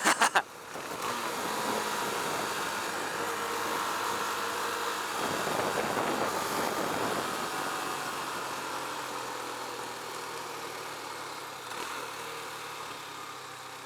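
A Husqvarna Svartpilen 401 motorcycle engine running steadily while riding at about 50 mph, a continuous mid-pitched drone with wind noise, close and fairly loud, with a few brief knocks at the start.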